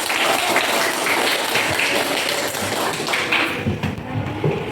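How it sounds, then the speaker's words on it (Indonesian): Children in a classroom applaud together, a dense, continuous patter of small hands clapping that stays loud throughout and thins slightly toward the end. "Tepuk tangan untuk kita semua."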